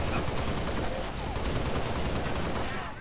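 Sustained gunfire in the video game Halo Reach: a dense, continuous stream of rapid shots blending into a loud, noisy wash for about three seconds, with no pauses.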